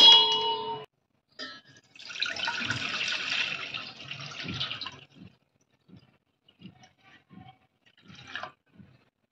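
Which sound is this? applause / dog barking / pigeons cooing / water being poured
water being poured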